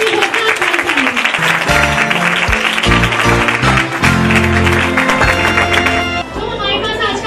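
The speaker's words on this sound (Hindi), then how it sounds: "आप सब उसके लिए तालियां बजा सकते हैं." An audience claps for a children's Christmas play, steady broadband applause running the whole time beneath loud music and a voice.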